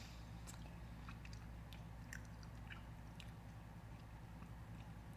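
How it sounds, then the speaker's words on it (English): Someone eating a crunchy snack, with faint, close chewing and crunching bites scattered irregularly over a steady low background hum, no talking. "I'm eating a little bunch of crunch right now."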